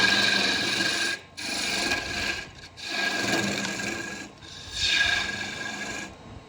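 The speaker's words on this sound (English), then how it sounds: "I'm gonna remove a little more wood in here so I have access." Lathe tool cutting walnut on a goblet, giving a close, scraping rasp that comes in several strokes separated by brief pauses, with no talking.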